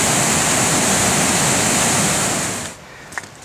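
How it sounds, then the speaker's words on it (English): A loud, steady roar of heavily falling water at High Force waterfall in Teesdale, England, fading away near the end and leaving a few faint knocks. "I'm starting to hear quite a roar, so I can only assume that I'm getting quite near to high force waterfall"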